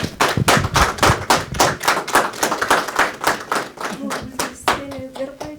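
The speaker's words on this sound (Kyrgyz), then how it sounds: "Кол чабуулар." A studio audience at a Kyrgyz TV talk show claps in dense, steady applause that stays loud for several seconds, then thins out as tones and a voice come in near the end.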